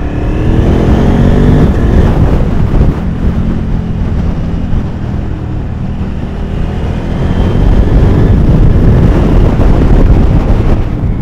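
KTM 950 Adventure motorcycle with an LC8 engine running on the road with a ticking, rattling fault, a loud continuous engine drone with shifting revs and heavy wind buffeting on the microphone.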